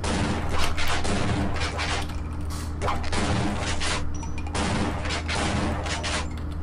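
Shotgun blasts and gunfire ring out in Half-Life: Opposing Force, loud repeated bursts over a constant mechanical hum, with several sharp impacts spaced across the stretch.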